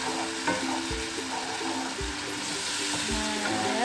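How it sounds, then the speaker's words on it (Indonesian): Carrots frying in a pan for homemade noodles: a steady loud sizzle throughout, with low knocks and scrapes as they are stirred every second or so. "kita aduk terus wortelnya sampai matang"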